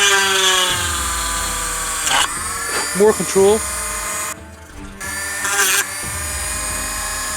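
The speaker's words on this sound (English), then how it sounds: "Using the Dremel rather than the drill." A small Dremel rotary tool drills holes in a resin model in short bursts of high-pitched buzzing, starting and stopping, with a voice speaking briefly between runs.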